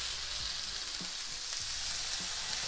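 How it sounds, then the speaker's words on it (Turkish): A hamburger patty sizzles steadily in a pan, a close, continuous hiss with a few soft scraping knocks as it is turned, no voices. "Bu şekilde çevirip diğer tarafını da pişiriyorum"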